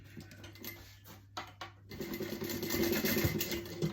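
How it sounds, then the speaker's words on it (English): A sewing machine runs a holding stitch across the end of a handmade backpack. A few soft handling clicks come first, then the close machine hum builds into a steady, continuous run through the second half. "I'm also going to stitch this end in place so that it actually keeps in place."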